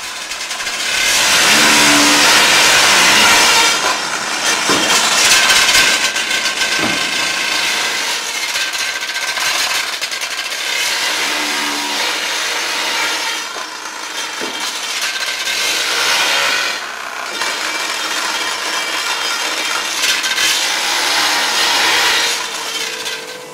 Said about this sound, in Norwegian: Den gamle tunnelriggen brukes til riggrensk.